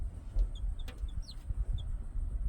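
Chickens let out in open countryside cluck softly now and then, with a few short high chirps from chicks over a low, rumbling outdoor background.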